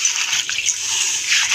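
Urad lentils being rubbed and washed by hand in water, giving a steady wet swishing and sloshing that runs close and even throughout, with a slight swell near the end.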